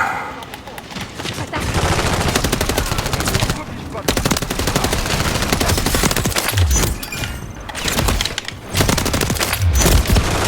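Dense, nearly continuous bursts of gunfire from a shooter video game such as Fortnite or Call of Duty, loud and close, with only a few brief gaps between volleys.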